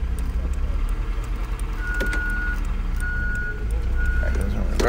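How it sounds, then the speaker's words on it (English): An older vehicle with a bad alternator shifted into reverse gives out repeated electronic reversing beeps over its idling engine, with someone talking nearby. "That goes in reverse."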